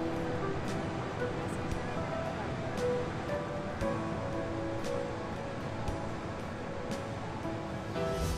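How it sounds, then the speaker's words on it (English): Large surf waves break continuously at Granites, a surfing beach on South Australia's Eyre Peninsula, making a steady, dense roar of rushing water with some wind noise and no clear gaps. "it is here that you'll see some of the most amazing surf"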